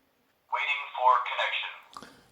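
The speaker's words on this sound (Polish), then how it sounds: "usłyszycie też komunikat głosowy bezpośrednio z kamery." An IMILAB A1 indoor IP camera with a baby-monitor function plays a short recorded voice prompt through its small speaker. The thin, tinny announcement lasts about a second and a half and ends in a faint click.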